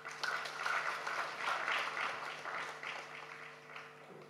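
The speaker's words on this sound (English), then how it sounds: "Can we put up our hands much better than we did for Rosa?" Audience applause at a water and environment week event in Uganda, a steady wash of many hands clapping that swells and holds for several seconds, then gradually thins near the end.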